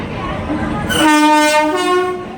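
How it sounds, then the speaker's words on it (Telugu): A loud train horn sounds in one sustained blast lasting over a second, riding above the low rumble of rail traffic nearby, at Angallu station. "ఇదే మన ట్రైను."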